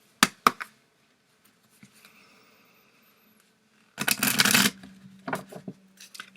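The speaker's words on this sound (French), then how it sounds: "je vais tirer d'autres cartes" Tarot cards handled close up: a few sharp taps, then quiet rustling, followed by a brisk riffling shuffle burst and some softer card slaps at the end.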